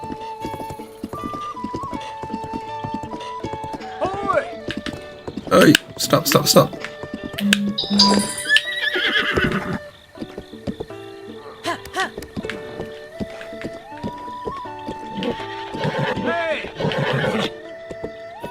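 Horse whinnies and clip-clopping hooves from Zelda: Breath of the Wild, a weak new horse, heard amid game ambience with crickets, under frequent talk from a player.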